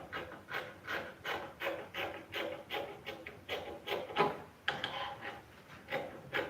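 Fabric being cut for sewing a top gives a quiet, rhythmic series of short rasping snips, repeated evenly about twice a second, close up with no talk.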